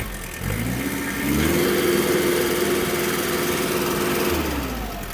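A Yanmar FX-42 mini tractor's 1.5-litre four-cylinder diesel engine revs up from idle, holds a steady raised drone for about three seconds, then drops back to idle.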